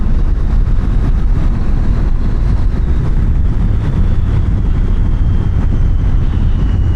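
Triumph Tiger 800 XR motorcycle riding on open roads, a steady loud engine drone mixed with heavy low rumble and wind buffeting across the whole stretch, no talking.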